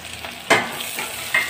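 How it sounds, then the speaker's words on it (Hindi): Chopped onions and curry leaves fry in a pan with a soft sizzle, broken by two sharp spatula scrapes, one early and one near the end. "हमें इसे तब तक फ्राई करना है जब तक कि ये सॉफ्ट होकर पिंक कलर की ना हो जाए"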